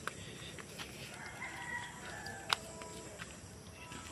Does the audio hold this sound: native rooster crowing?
yes